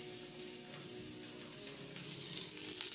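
Onion and green chilli sizzle in hot oil for an omelet, a steady, close, bright frying hiss with faint stirring scrapes and no voices.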